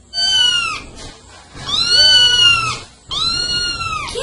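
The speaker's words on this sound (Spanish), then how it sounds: "gato" A cat gives three long, drawn-out meows, loud and close, each rising then falling, separated by short pauses.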